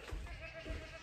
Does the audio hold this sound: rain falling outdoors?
no